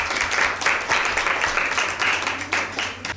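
Applause from a studio audience at a Bible quiz show, a steady wash of clapping that swells and fades in waves across the whole stretch, no voices over it.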